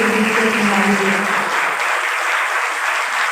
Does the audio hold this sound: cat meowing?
no